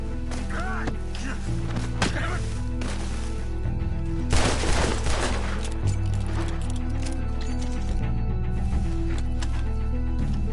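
Rapid gunfire bursts in the Red Dead game, a dense volley of overlapping shots with a heavier cluster midway, layered over a steady musical score and ambient noise.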